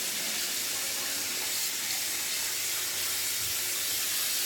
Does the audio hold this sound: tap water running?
yes